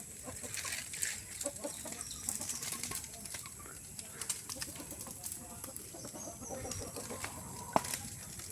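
Several chickens cluck and chatter on and off in and around a backyard chicken house, moderately close, with occasional sharper calls over low outdoor noise.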